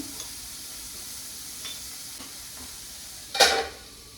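Okra and onions frying in a pan produce a soft, low sizzle with a few light stirring scrapes and one brief louder scrape or clatter near the end; no voices.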